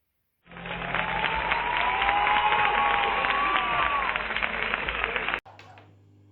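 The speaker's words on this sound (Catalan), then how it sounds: "Vos esperem als balcons. Per poder aplaudir." Applause and cheering from people on neighbourhood balconies, a continuous wash of clapping and voices at moderate distance that stops abruptly, leaving quiet background.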